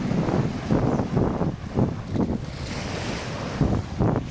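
Surf rolling in on Lipa Noi beach, Koh Samui, with rhythmic swells of wave wash every half second or so, under steady wind rumble buffeting the microphone.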